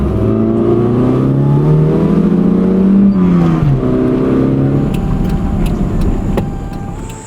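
A car engine with a faulty electronic choke, now worked by a pulled cable, revs up and down loudly and close, pitch rising to a peak and dropping before settling toward idle, with no voices.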